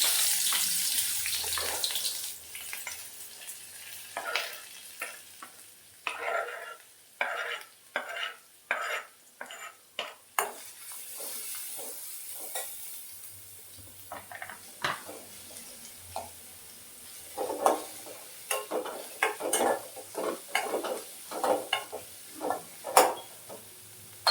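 Chopped onion, carrot, curry leaves and ginger fry in a pan, with repeated stirring scrapes and soft sizzling coming in bursts, close and fairly loud, no talking.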